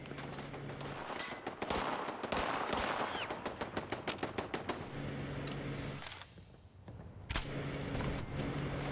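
Rapid gunfire in the video game Fallout 76, with bursts of quick repeated shots and single loud cracks running almost continuously over a busy game soundscape.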